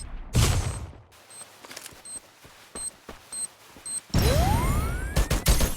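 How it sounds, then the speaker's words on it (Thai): A loud video game grenade blast bursts out near the start, followed by quieter clicks and beeps, then another heavy explosion rumbles with debris and a rising whistle. "มีคนโยนระเบิดใช่ไหมครับ"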